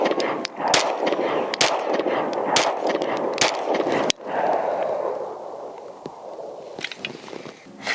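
Five sharp pistol gunshots from a Nighthawk TRS Comp fired at a target five yards away, loud and evenly spaced over an indoor range's echoing background, with a quieter tail of ambient noise afterward.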